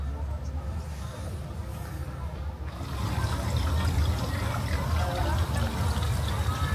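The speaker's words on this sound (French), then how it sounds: "Ils ont créé un petit ruisseau qui ruisselle avec toutes les plantes là." A small artificial stream trickles through planted beds at the Jardin des Plantes in Paris, a steady wash of running water that gets a little louder partway through, with a faint background rumble.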